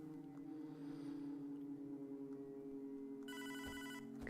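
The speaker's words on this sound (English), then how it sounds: "let's answer the phone if he's not going to" A telephone rings in the video game Hotline Miami 2, a loud electronic trill bursting in near the end over a steady droning synth background.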